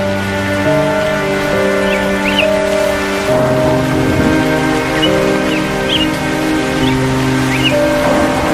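Steady rain pouring in an animated cartoon, a continuous hiss with soft music tones layered over it and no talking.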